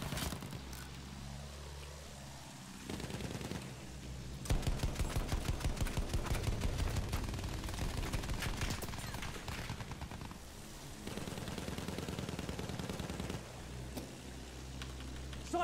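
Infantry gunfire in the Battlefield 1 video game, bursts of rapid automatic fire and scattered shots at moderate distance, rattling in dense volleys through most of the stretch with short lulls between.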